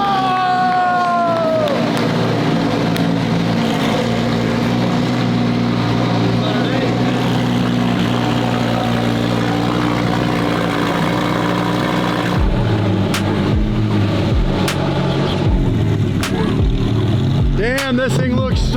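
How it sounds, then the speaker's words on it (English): A supercar from a large collection idles with a steady, loud engine drone throughout, with harmonic tones sweeping at the start and a few sharp blips and revs near the end, while a person talks over it. "Fire this thing up, put some heat in the engine"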